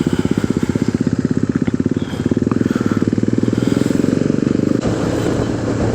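A KTM Adventure 390 motorcycle rides along a road, its single-cylinder engine thrumming in a steady rapid pulse, loud and close throughout, with light wind and road noise behind it.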